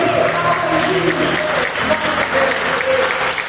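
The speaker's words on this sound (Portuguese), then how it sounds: "Você quer então dar uma salva de palmas para o Senhor? Bem forte!" A church congregation claps hard and steadily, a dense and loud wave of applause filling the sanctuary, with faint voices mixed in.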